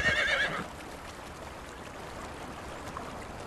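A horse in Conan Exiles gives a short, clear neigh at the start. A soft, steady outdoor wash, like flowing water, continues alone afterward.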